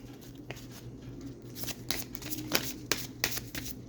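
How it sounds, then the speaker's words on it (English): A deck of tarot cards is shuffled by hand, a run of quick riffling bursts and soft papery flicks, close and fairly quiet, with no talk over it. "I was shuffling and like kept going"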